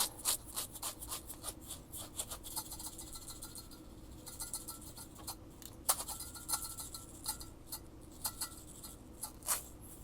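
Flaxseed shaken inside a small glass mason jar gives a soft, grainy rattle with quick bursts of clinking against the glass, quiet and close, alone with no voice.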